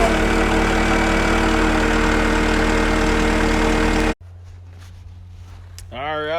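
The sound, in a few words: Caterpillar 259D engine cranked and idling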